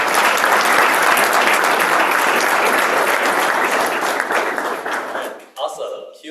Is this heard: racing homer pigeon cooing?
no